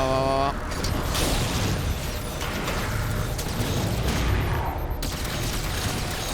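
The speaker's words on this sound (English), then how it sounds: "Yep, suppressing fire." Sustained suppressing gunfire in the Halo 4 campaign, a dense run of rapid mechanical shots and clattering bursts filling several seconds, loud and continuous with game effects layered in.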